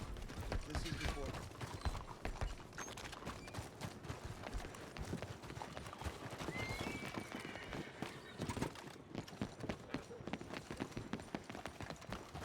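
Rhythmic clip-clop of horse hooves at a steady gallop, with game sounds and people talking over it.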